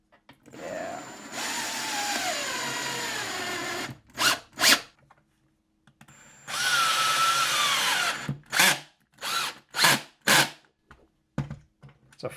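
A power drill drives a screw into a wooden shelf: two long whirring runs, each followed by a cluster of short sharp bursts as the screw is set and backed out.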